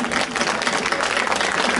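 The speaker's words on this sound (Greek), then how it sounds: "μεγάλο χειροκρότημα καταρχήν σε όλα τα παιδιά που χορέψανε" Audience clapping for the dancers at a rebetiko evening during a halva festival in Farsala, Greece, a short burst of thick, close applause that runs evenly throughout.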